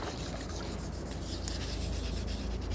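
Sandpaper rubs steadily over lacquer in a continuous, close scratching hiss with no pauses or voices.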